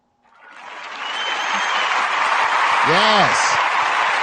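A studio audience at a late-night talk show breaks into applause for a guest, swelling quickly into loud, steady clapping that holds to the end, with a voice speaking briefly over it.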